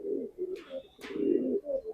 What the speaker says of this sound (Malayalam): ഇതാട്ടോ പ്രാവ്